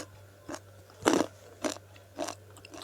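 Crisp roasted salted peanuts crunch between the teeth in four distinct bites, close and clear against a quiet background.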